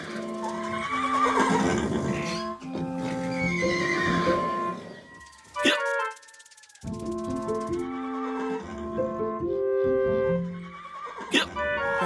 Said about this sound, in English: Horace the horse is the one with the hiccups!